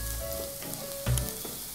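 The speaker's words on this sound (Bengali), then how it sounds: "আবার সব কিছুকে ভালোভাবে ভেজে নেবো" Steady sizzling of onion and chili frying in a hot pan, with a brief louder crackle partway through and no voices.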